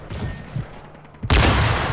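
A single loud, close gunshot fired in Modern Warfare 3, cutting in abruptly after quieter background game noise and ringing out to the end.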